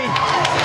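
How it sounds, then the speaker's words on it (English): A hall crowd cheers and applauds a prize winner at an elementary school's 100-year celebration, a dense, loud roar of shouts and clapping filling the brief moment. "Let's give a great big round of applause."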